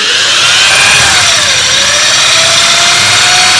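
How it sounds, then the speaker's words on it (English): A power drill boring a slightly larger hole through an aerial or antenna held in pliers, a loud continuous high whine with a gradually shifting motor tone, close and unbroken throughout. "So I'm going to drill a slightly bigger hole"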